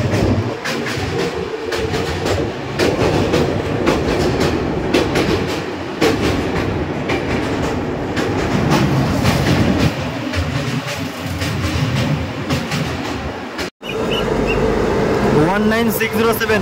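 Kolkata Mother Express train passing close by, loud continuous rumble and rattling wagons with clickety-clack rhythm throughout, a brief dropout near the end before the roar resumes.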